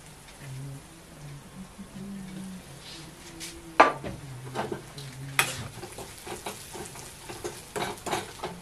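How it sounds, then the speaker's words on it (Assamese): Spices such as coriander and cumin powder frying in a pan over a high flame, a soft steady sizzle with occasional sharp scrapes and clinks as a spatula stirs them, close by and fairly quiet. "হাই ফ্লেমত 5 মিনিট সিজাই লম মশলাখিনি আৰু মাঝে মাঝে হেতাখন চলাই থাকিব লাগিব"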